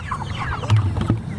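Chickens in a coop housing close to seventy birds cluck and call in short bursts, a busy, fairly close flock sound with overlapping squawks.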